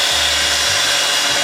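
Electric mixer whirs steadily at high speed while beating a jumbo egg into vanilla batter for a s'mores casserole, a short close continuous buzz with a slight pitch wobble.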